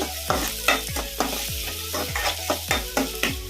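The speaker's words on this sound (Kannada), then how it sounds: "ಉಳ್ಳಾಗಡ್ಡಿ ಜಾಸ್ತಿ ಕೆಂಪಗಾಗೋವರೆಗೂ ಫ್ರೈ ಮಾಡ್ಕೋಬಾರ್ದು." Onions frying in a pan for aloo 65, with a steady sizzle under repeated stirring scrapes that land in a regular rhythm, about seven sharp strokes, close and moderately loud, with no talking.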